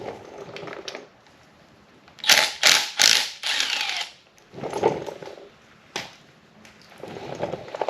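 A ratchet wrench loosening a 12mm bolt on a Suzuki Cappuccino engine during teardown, with several bursts of fast, close ratcheting clicks separated by short pauses.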